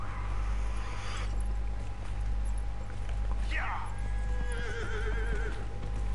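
A horse whinnies in the fantasy role-playing video game Dragon Age: Inquisition, with a rising then wavering neigh standing out over a steady game soundtrack and hum, accompanied by hoof clip-clops.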